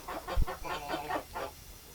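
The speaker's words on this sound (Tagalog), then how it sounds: "ito yung uh, Basilan roster na ginagamit ko" A Basilan native chicken rooster gives a short run of rhythmic clucks, close and moderately loud against faint background noise.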